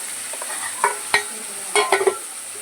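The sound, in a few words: sautéing mutton bone curry masala in pan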